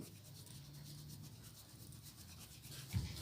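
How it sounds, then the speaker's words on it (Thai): A cloth soaked in polishing cream is rubbed steadily along the barrel base of a .22 cowboy gun, a faint, continuous, close scrubbing with a small knock near the end. "อาศัย ผ้าชุบครีมวีนอนเหมือนกันนะครับมาขัด ไปเรื่อยๆ ถูไปเรื่อยๆนะครับ"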